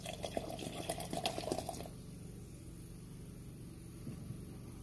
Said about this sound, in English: you hold the water above it and just pour in quickly